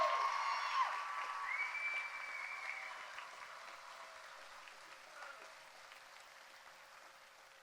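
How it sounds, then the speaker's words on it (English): Applause for the staff at a high school graduation ceremony, a hall full of clapping that starts strong and gradually thins and fades over several seconds. "Please give them a round of applause."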